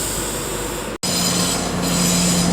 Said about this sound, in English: 170 618 is departing up there with the 1909 cross country service to Birmingham New Street